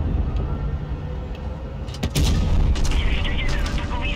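A tank cannon fires in World of Tanks Blitz, a loud boom landing about midway, with softer distant shots and rumbling battle noise around it.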